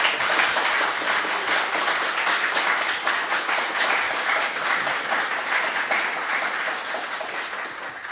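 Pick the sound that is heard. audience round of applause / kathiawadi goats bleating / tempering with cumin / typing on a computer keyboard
audience round of applause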